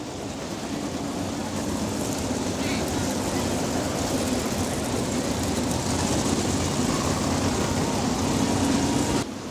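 Several winged sprint car engines droning together on a dirt track before the green flag at a Great Lakes Outlaw Super Sprints race at Butler, a dense, steady roar with slowly rising pitch, loud and continuous.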